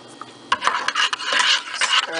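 A spoon stirs almond tea with hazelnut in an oversized mug, giving a steady close-up scraping and rubbing against the ceramic that lasts about two seconds after a quiet start.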